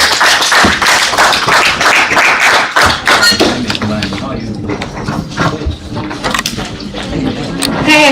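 Loud, close clapping from an audience at a local youth conference fills the first few seconds, then thins into scattered taps and thumps as the room settles.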